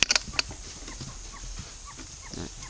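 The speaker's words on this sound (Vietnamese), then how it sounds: "Các bạn biết đây là những chú gà điểu rất là" Ostrich chicks on a breeding farm give a few sharp, high calls at the start, then fainter scattered chirps and rustling in the background.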